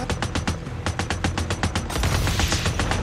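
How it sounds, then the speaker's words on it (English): Rapid gunshots crack in quick succession in the video game Days Gone, a dense near burst of automatic fire that grows louder and more continuous toward the end. "Who are you shooting at?"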